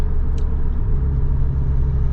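Nissan 300ZX twin turbo engine with an exhaust leak, a steady low rumble of the running motor close up with a brief faint tick, no voices.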